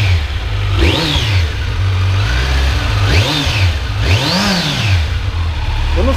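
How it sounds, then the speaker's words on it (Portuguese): A 2021 Kawasaki Z900 motorcycle at a dealership idles steadily, then its engine is revved in three sharp blips that rise and fall, the last the longest, with the idle rumble continuing between them. "Vamos ver o barulhinho do motor, Miguel, do motor."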